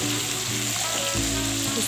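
Greens and fish with potatoes fry in two woks over two gas burners, giving a dense, steady sizzle that fills the whole stretch close to the pans.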